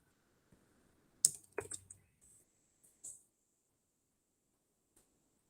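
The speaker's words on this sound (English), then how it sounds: "So I can go ahead and type that into Desmos." A handful of sparse, light keystrokes on a computer keyboard while an equation is typed into Desmos, with a short burst of clicks and then a few isolated taps, quiet and close with no talking.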